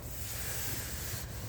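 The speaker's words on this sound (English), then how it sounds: "Gonna do one more round of sanding." Steady, close scratching of sandpaper worked over a fiberglass project surface, a continuous even rasp with no pauses and no voices.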